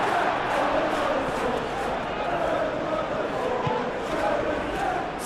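Continuous stadium crowd roar in the PES 2021 football game, a dense sustained wash of cheering and chanting with steady loudness and no clear peaks, running under a commentator's voice.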